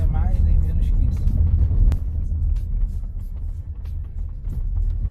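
Haval H6 HEV hybrid SUV rolls along under automatic hill descent control, a low steady road rumble and cabin hum under a person talking, with a brief click near the middle.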